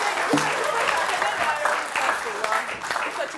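An audience at a comedy quiz show applauds, a dense stretch of clapping with a voice speaking over it throughout.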